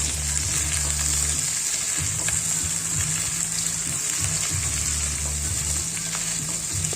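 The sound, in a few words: sautéing chopped onion and capsicum with cumin in a wok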